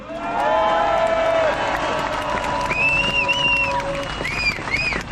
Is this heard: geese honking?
no